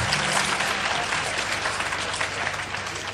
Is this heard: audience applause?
yes